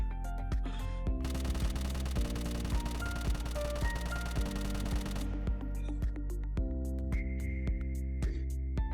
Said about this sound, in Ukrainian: Стрілять будемо на дистанцію 20 метрів автоматичним вогнем.